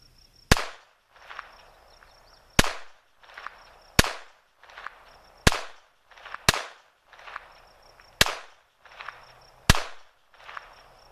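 Shots from a Taurus TX22 .22 pistol crack out one at a time in an irregular, evenly spaced string of about eight sharp, loud reports, each followed by a short echoing tail outdoors.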